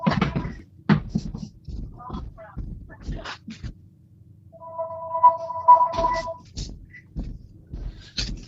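A landline telephone rings briefly with a short electronic trill, heard faintly in a room while people talk in a podcast conversation.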